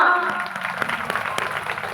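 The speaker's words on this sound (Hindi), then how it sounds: "तो इन भैया के लिए एक बार जोरदार सी तालियां" An audience at a devotional religious gathering breaks into sustained applause, a dense wash of many hands clapping that stays fairly even and gradually eases off.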